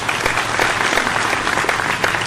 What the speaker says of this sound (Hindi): एक बार हम तीनों कवियों के सम्मान में भी जोरदार तालियां आपकी हो जाए।